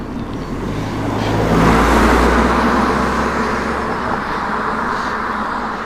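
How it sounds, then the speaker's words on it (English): Steady road traffic with cars rumbling past, swelling as one draws nearer around the middle, under broadband wind-like noise; no talking. "More and more cars here."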